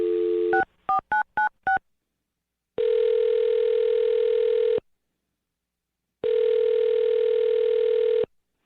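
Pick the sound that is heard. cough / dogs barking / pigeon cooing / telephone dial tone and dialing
telephone dial tone and dialing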